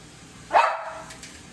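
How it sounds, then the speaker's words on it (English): A single sharp dog bark, fairly close, rising out of quiet room noise and trailing off into a brief whine. "I don't know why she's barking"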